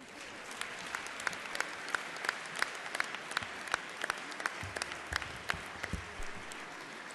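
Sustained applause from a party congress audience of Die Linke delegates in Saxony, dense steady clapping filling the hall with sharper individual claps standing out throughout.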